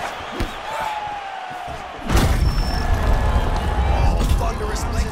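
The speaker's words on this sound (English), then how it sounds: "Oh, thunderous leg kick." A thunderous leg kick lands in UFC 4, a sharp heavy slam about two seconds in, followed by a roaring arena crowd and loud commentary talking throughout.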